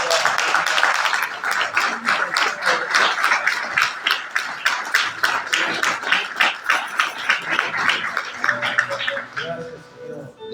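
A church congregation claps at a Spanish-language sermon, a dense rhythmic applause of many hands that holds for around ten seconds with voices mixed in, then fades out.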